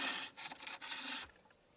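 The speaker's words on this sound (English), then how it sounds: "This device here is called a ferret, which is a scraping tool to undercut each ring." A ferret scraping tool undercuts a ring on a turned wooden baby's rattle, producing a close, steady rasping scrape in a few short strokes that fades out near the end.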